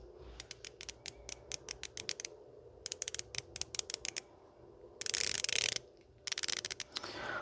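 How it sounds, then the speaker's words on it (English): Gearwrench 120XP locking flex head ratchet clicking as it is swung, several runs of crisp fine ticks close up, with one brief rough scraping burst between them, no talking. "Here you can have a listen of the 120 XP mechanism."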